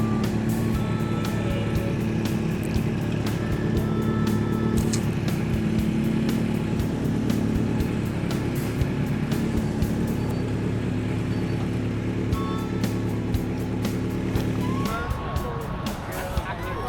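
A crowd of motorcycles, among them a Honda CB1100, idles and rumbles on a New York group ride, a thick steady engine drone with traffic noise throughout and a shift in tone near the end, while people talk.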